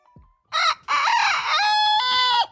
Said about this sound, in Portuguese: Essa galinha aqui é uma Ayam Semani.